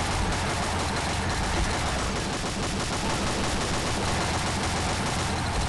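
The Gatlin Raptors, a purple Gatling gun, fires in rapid bursts during a hell-difficulty deep-forest mission of a Chinese legendary-campaign shooting game, a dense, loud, continuous barrage that never lets up, with no talking.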